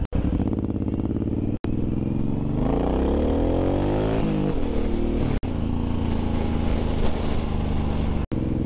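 A Suzuki M109R motorcycle being ridden, its engine droning steadily and climbing and falling in pitch as it revs, with loud wind buffeting; the engine is limited to about half throttle from the factory.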